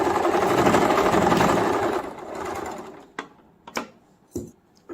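Sewing machine stitching piping onto a baby frock, a fast steady motor whir for about two and a half seconds that fades out, followed by a few short clicks and taps.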